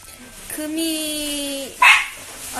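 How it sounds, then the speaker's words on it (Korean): A poodle gives a short whining bark, a brief drawn-out yelp followed by a sharper yip, close to the microphone, with people's voices nearby. "강아지 종 푸들입니다."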